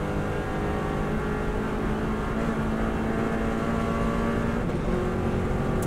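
Subaru WRX STI at sustained high speed on the Isle of Man TT road course, a continuous loud engine drone with steady wind and road roar heard from inside the car, no talking.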